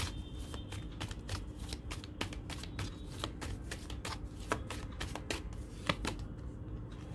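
Tarot cards are shuffled steadily for several seconds, a close, continuous run of crisp riffling flicks and soft paper slaps with no voices.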